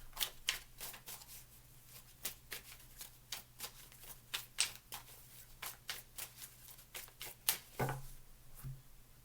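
Cards slide and tap against a table as they are gathered and moved aside, a close, quiet run of short rustling swishes in an uneven rhythm.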